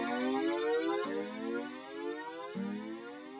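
Subtractor synthesizer tone modulated by an LFO, pitch sliding steadily upward along a slope then dropping abruptly, repeating twice in a loud, sustained, buzzy cycle with no voices.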